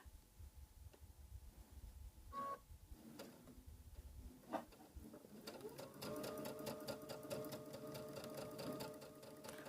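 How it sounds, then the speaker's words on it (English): A sewing machine chain stitching fabric for a floral wall hanging, first a few light ticks and clicks, then a steady fast whirring hum of stitching that holds to the end, close and fairly quiet with no talk. "when you chain stitch, it sometimes prevents your machine from wanting to eat the fabric"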